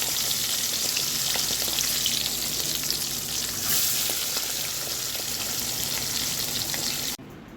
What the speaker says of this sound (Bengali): তেলটা গরম হয়ে গেছে এবার আমি মাছগুলো দিয়ে দিচ্ছি